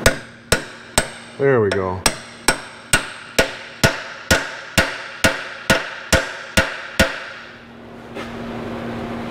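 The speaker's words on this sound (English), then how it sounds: "Normally I put in seals just by hammering them in" Seventeen sharp, evenly spaced hammer blows drive a seal into a Ford 5-speed transmission behind a Cummins 4BT diesel, struck through a socket used as a driver, with a brief whining tool sound between early strikes and a quiet hum at the end.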